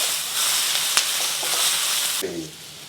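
Onions frying in oil in a pan give a loud, steady sizzle throughout, with a brief clatter near the end.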